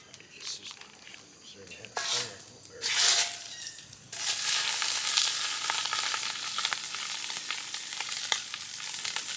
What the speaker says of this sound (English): You just want to brown your meat to get it a good crust flavor.